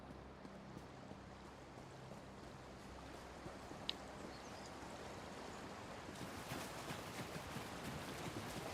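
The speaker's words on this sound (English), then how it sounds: "We come to another small waterfall." A small waterfall in Elder Scrolls Online produces a steady, even rush of falling water that holds throughout and brightens slightly toward the end, with no voices.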